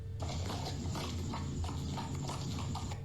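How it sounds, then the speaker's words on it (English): Horse hooves clip-clop steadily on a road at a brisk, even pace, close and fairly loud over a constant wash of background noise, with no talking. "the distinct sound of horse hooves begins echoing nearby, sharp, heavy, and getting closer by the second"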